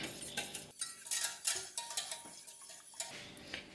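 A spoon clinks and scrapes against a saucepan as custard powder is mixed into milk, with quick irregular taps and swishes up close, no talking.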